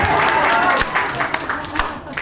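A handful of scattered claps from a small audience at a live storytelling event, loud and close at first and then thinning into a few separate claps.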